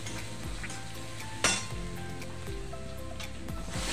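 Turmeric, red chilli powder and black masala sautéed in a pan for a dry brinjal-potato dish, a steady close sizzle with scraping stirs and one sharp clink of a utensil.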